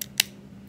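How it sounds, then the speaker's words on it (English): A single sharp snip of scissors cutting through a thin, cheap tape measure, one crisp click standing out over a quiet background hum. "the tape measure is thin enough that I can cut it with a pair of scissors"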